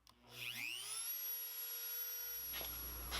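A Dremel rotary tool spins up with a rising whine and then holds a steady high-pitched drone while cutting wood for an acoustic guitar build, running close and loud for about three seconds.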